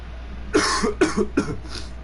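Three harsh, wet coughs bringing up phlegm come in quick succession from a smoker close by, with a fainter fourth hack trailing off at the end.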